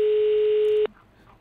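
In the video game Hello Neighbor 2, a telephone gives one loud, steady electronic ring tone lasting under a second, then it cuts off into quiet background.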